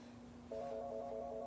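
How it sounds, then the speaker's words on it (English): A telephone rings quietly in a room, its warbling electronic tone repeating in short bursts over a steady low hum, with no talk. "I'm going to ignore the phone ringing and I'm going to keep going."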